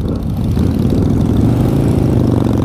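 BMW GS 500 motorcycle engine running steadily at idle or low revs, a dense continuous low rumble close by amid traffic, with no talk over it.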